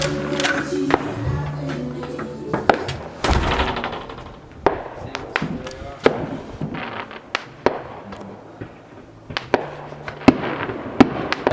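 Consumer fireworks and firecrackers pop and crack in irregular sharp bursts, some loud and close, others quicker and scattered, with faint voices now and then in between.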